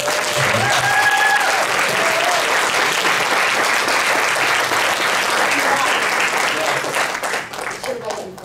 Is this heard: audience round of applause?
yes